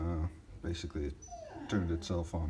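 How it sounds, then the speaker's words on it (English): A pet dog whimpers and yips in the background of a garage while someone talks about a smart shop heater, the small cries coming faintly between his words. "You can hear my dog in the background."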